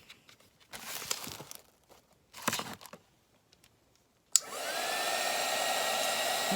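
Heat gun switching on with a sharp click and running as a steady, loud blowing whir, melting black embossing powder on a Halloween card, after a few soft crinkles and handling noises.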